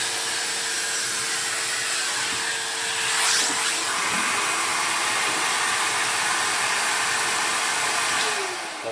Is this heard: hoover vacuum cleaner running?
yes